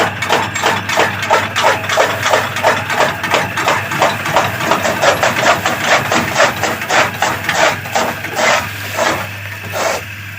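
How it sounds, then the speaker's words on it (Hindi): Electric fodder chopper with a loose drive belt, its motor running steadily while heavy sorghum fodder jams the blades, giving a loud, rapid rhythmic chopping and knocking over a constant motor hum with no talk. "ये देखिए, ये मोटर चल रही है और ये जाम हो गया।"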